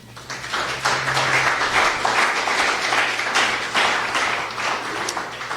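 A church congregation breaks into sustained applause to the Lord during a sermon, a dense, fairly loud clatter of many hands that holds steady for several seconds with a faint low hum beneath.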